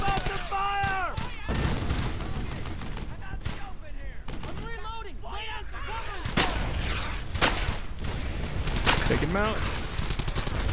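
Machine-gun fire and scattered gunshots from the World War II shooter Brothers in Arms: Hell's Highway crackle in sharp bursts throughout, mixed with battle noise while voices speak over the fighting.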